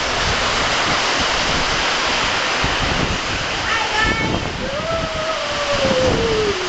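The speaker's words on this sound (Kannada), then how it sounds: "ಮಳೆ ಪೂರ್ತಿ ಜೋರಾಗಿದೆ ಗೈಸ್" Heavy monsoon rain pours as a dense, loud, continuous hiss across a rooftop terrace in Shimoga, with faint thin whistling tones drifting through the roar.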